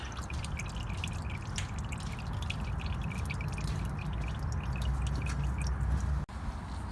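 Motor oil draining from a Toyota RAV4 during an oil change, a continuous close trickle and pattering of liquid into a pan that holds steady throughout with a brief dip near the end.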